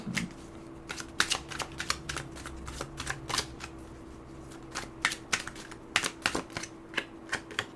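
Tarot cards being shuffled and drawn, heard as a rapid series of close, crisp riffling flicks and taps in irregular bursts with short pauses, and no talking.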